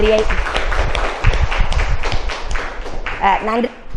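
Audience at a lecture introducing Thirumoolar's Thirumanthiram gives a round of applause, dense clapping throughout with a speaking voice heard over it.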